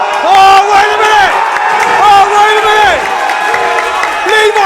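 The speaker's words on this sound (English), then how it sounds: "This crowd has gone ballistic." A wrestling crowd at a championship match roars and cheers wildly in waves, loud and dense, with chanting voices rising and falling throughout.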